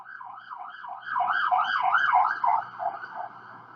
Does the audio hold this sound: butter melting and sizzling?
no